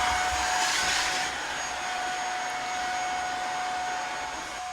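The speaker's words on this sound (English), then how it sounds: "We're going to vacuum it off and then clean it with an upholstery cleaner." A vacuum cleaner running over an old, slightly damaged sofa bed gives a loud, continuous whining roar. The pitch dips a little after the first second, and no one speaks.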